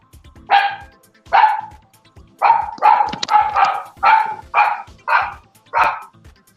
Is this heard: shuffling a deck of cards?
no